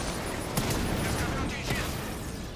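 Bursts of gunfire and heavy tank cannon shots from the video game Batman: Arkham Knight during a battle against a horde of henchmen, dense rapid shots over a constant loud noisy background.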